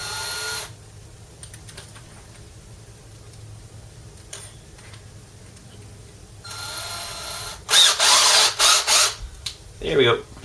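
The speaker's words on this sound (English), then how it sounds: "So tiny drill bit and start drilling out the holes." Short bursts of a small power drill with a tiny bit drilling tuner holes in a BC Rich guitar neck, over a quiet background, with a louder run of several quick bursts toward the end.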